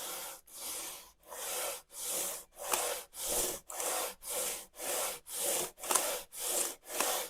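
A big flat file strokes back and forth across guitar frets, eleven steady rasping passes with short pauses between, close and loud, with no talking.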